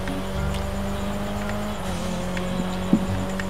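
Vehicle riding through the streets in GTA V Online, a steady game engine drone with continuous road noise and a small bump near the end, no talking.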